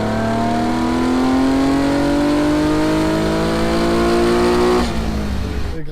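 A Fiat Dino Spider in collector condition roaring loudly up through the revs, its engine note climbing steadily for about five seconds before dropping off, close and powerful.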